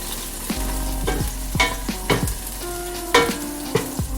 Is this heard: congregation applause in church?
no